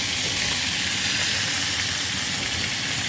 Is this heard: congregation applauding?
no